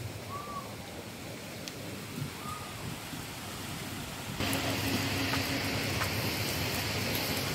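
Heavy rain pours down in a steady, dense hiss that grows louder partway through, with a faint bird call briefly audible through the downpour and no talk.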